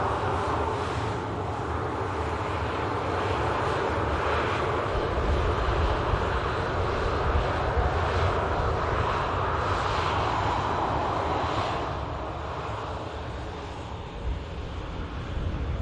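A TUI airliner at Manchester Airport gives off a broad, steady jet-engine roar that holds loud and even for the whole stretch before easing slightly near the end.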